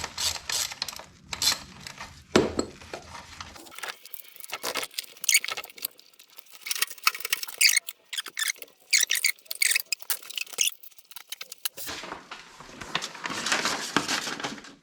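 A wrench works the rocker cover head studs of a Classic Mini engine, re-torqued one at a time, giving bursts of close metallic clicks and ratcheting with brief pauses between pulls.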